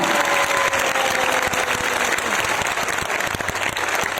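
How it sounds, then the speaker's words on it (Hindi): An audience at an award event in India claps loudly and steadily for an honoured mentor, a dense, sustained burst of applause filling the whole clip with a faint crowd murmur underneath. "इनके लिए एक बार जोरदार तालियां, आज तक की जानदार और शानदार तालियां, जोरदार तालियां।"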